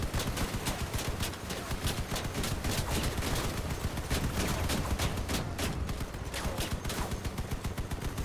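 Rapid, continuous vehicle-mounted gunfire in the Crossout combat game, a dense unbroken stream of loud shots rattling for several seconds with no pauses.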